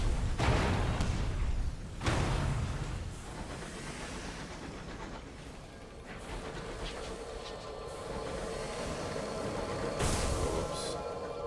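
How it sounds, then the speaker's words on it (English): Cannon fire from a ship in the video game Sunless Skies: a few broad, sharp blasts over a low, rumbling engine drone, quiet overall, one near the start, another around two seconds in and a last one near the end. "Keep your cannons off of me"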